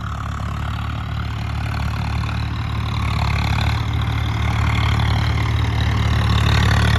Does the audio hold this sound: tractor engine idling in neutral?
yes